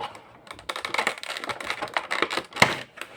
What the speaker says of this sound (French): C'est la toute première fois que je la déballe.